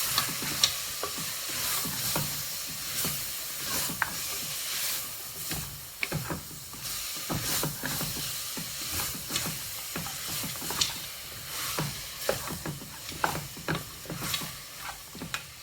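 Pork browning over high heat in a pan for pea and ham soup, with steady close sizzling broken by frequent scraping and stirring knocks of a utensil against the pan.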